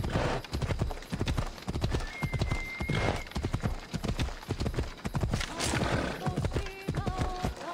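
Horse hooves clip-clop steadily in Assassin's Creed Odyssey, a near, rhythmic run of hoofbeats with a brief whinny and game sounds, no talk over it.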